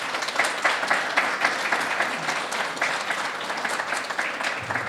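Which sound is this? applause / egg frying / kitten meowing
applause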